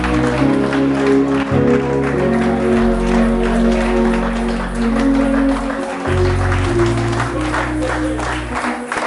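A church congregation applauding during a worship service, rhythmic clapping that stays loud and continuous over music and voices.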